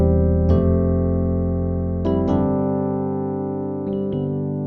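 A piano sounds a sustained full chord in a pop song intro, struck and held so it rings out, with a few further chord strikes later, alone with no voices.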